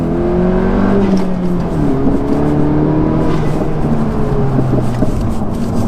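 A 10th-generation Honda Civic Si engine revs up steadily through second gear, its pitch climbing and dipping as it accelerates, loud and close with no talking.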